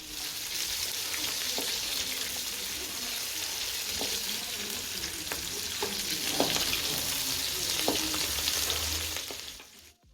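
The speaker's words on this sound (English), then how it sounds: "The curry leaves pop. They pop a lot, and the oil is going to sprinkle everywhere." Onions and curry leaves fry in hot oil with a loud, steady close-up hiss, scattered sharp pops and spatters, and a few stirring scrapes, with no speech, before the sound cuts off at the end.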